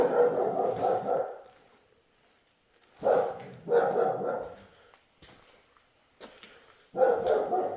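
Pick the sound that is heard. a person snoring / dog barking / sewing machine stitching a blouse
dog barking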